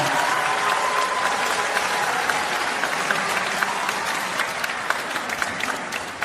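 A concert hall audience at a Daegu music festival gives sustained, loud applause for a children's vocal ensemble, dense clapping filling the whole stretch and thinning slightly toward the end.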